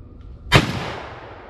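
One loud close gunshot from a deer hunt with dogs in South Carolina, a sharp crack followed by a decaying echo through open woods.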